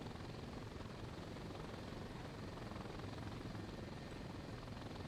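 A helicopter flies in the video game Thunder Helix, with a steady, dense rotor and engine roar that holds constant and fills the whole stretch with no pauses.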